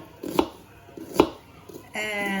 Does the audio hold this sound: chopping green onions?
yes